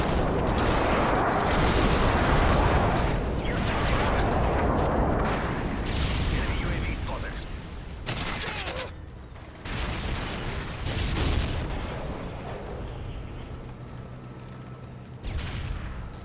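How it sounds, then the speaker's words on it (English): Video game airstrike explosions on a Team Deathmatch map, heavy booming blasts rolling one after another over several seconds, loud and dense at first, then thinning into scattered bursts under game noise. "Airstrike on the way."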